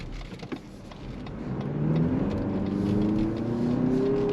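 A 2023 Lexus NX 350 F Sport with a 2.4-liter turbocharged engine accelerates from inside the cabin, the engine note climbing steadily in pitch and loudness with a rising whir, after a few quiet bumps.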